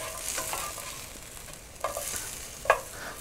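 Potato fries being turned over in a hot frying pan, a steady sizzle with a few sharp scrapes and clatters as pieces are flipped, the loudest near the end.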